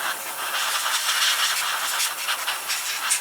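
An airbrush with no paint loaded blows air to dry and clear swarf off model train parts during a Hornby HST motor conversion, giving a steady, close, even hiss with no voices.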